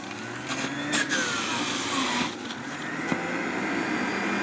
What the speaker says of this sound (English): I have about 1 inch of turmeric going in, so let's juice that.